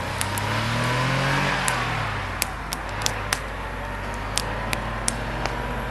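A car engine hums and pulls away, fading with a few faint clicks and ticks over steady background rumble.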